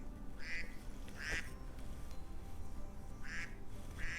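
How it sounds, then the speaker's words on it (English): Ducks at a pond quack close by, with two paired bursts of nasal quacks separated by a pause, over a soft outdoor background. "Gentle sounds of duck quacking"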